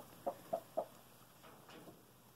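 Chickens eating cockroaches give three quick, soft clucks in a steady rhythm, followed by a few fainter clucks, nearby and otherwise quiet.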